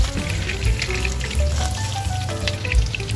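Dalagang Bukid fish frying in a pan of hot oil, a steady close crackling sizzle with occasional pops and soft stirring knocks throughout.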